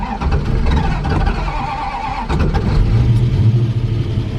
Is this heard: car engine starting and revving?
yes